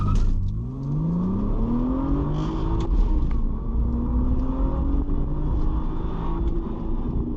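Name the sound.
Lamborghini launching and accelerating hard, engine revving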